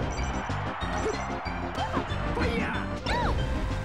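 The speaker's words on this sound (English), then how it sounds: "Hits him with the double dash attack." Dash attack hits in a Super Smash Bros tournament match, sharp smacks landing amid dense, constant game effects and music, with a bright whooshing sweep near the end.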